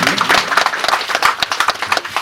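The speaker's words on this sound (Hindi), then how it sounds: "तालियां मार दीजिए।" An audience at an AAPPTF 5th Foundation Day ceremony claps in a dense, uneven burst of close, sharp hand claps that fills the short stretch.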